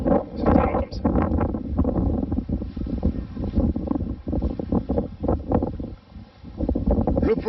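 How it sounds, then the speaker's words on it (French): Gusty wind buffeting an outdoor microphone in the Kongo region, a loud low rumble rising and dipping in waves, with a voice speaking throughout. "il y a maintenant beaucoup de vent ici"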